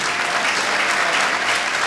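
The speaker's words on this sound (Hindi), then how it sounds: "तो मैं चाहूँगा भरपूर तालियाँ आप इनके लिए बजाएं।" A church congregation bursts into sustained applause, dense steady clapping filling the room at a constant loud level throughout, with no voices rising above it.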